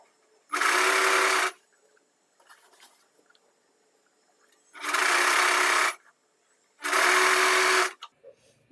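A sewing machine stitches falls onto a saree in three bursts of fast, whirring, needle-driven rattle, each about a second long, separated by quiet pauses with soft handling noise and faint talk.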